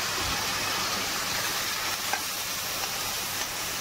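Chili powder masala loosened with a splash of water is stirred in a hot pan. A close, steady sizzling hiss runs throughout, broken by a few light scrapes of stirring, with no voices.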